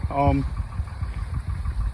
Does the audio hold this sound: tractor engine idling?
yes